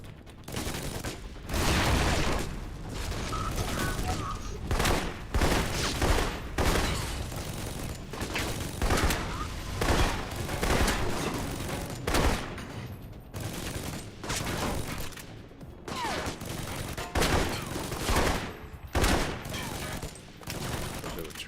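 Rapid gunfire from the Alpha Protocol video game, with repeated bursts and volleys of shots in a dense, loud, irregular rhythm that runs throughout.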